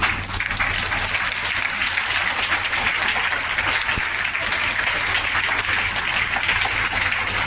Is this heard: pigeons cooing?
no